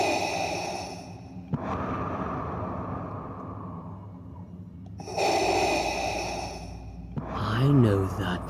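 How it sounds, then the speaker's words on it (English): Heavy breathing comes in loud, separate bursts of deep breaths and sighs with quiet gaps between them, ending with a rougher, more voiced exhale. "I know that breathing."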